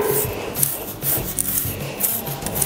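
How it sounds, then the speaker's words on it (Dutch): Metal curry comb working through a horse's thick shedding coat, giving a steady scratchy rasping with repeated short strokes, close and moderately loud, with no talking. "ik merk dat deze kam wel echt een beetje moeite heeft met haar dikke vacht"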